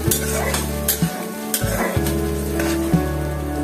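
Turmeric, chili and salt sizzle loudly in hot oil while being stirred for dal bhuna, a continuous close frying hiss with scraping stir strokes and no talking.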